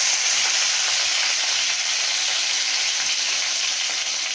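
Dried red chilies and curry leaves sizzling in hot oil for sambar, a steady bright crackling hiss that stays even and close throughout with no talk.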